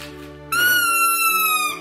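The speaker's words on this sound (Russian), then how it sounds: "Следующий подарочек, который я тебе хочу вручить, свистушка." A toy whistle blown once in a single steady, shrill tone lasting over a second, close and loud after a brief lower hum.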